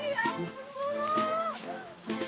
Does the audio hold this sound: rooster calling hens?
no